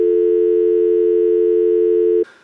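A steady, loud telephone tone sounds continuously for about two seconds, then cuts off abruptly into faint room noise, with no one talking.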